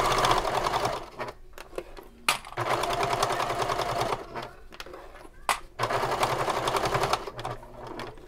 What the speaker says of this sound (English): I'm going to stitch from this side so I can do my best to stitch right on top of my previous seam.